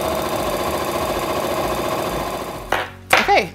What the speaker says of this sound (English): And then I'm just gonna top stitch on both sides.